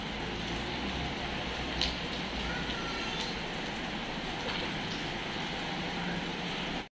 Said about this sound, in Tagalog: Lakas ng ulan, sir.